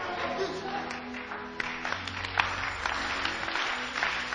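A church congregation claps hands during a preaching service, soft and steady applause heard at a moderate distance, with faint voices underneath.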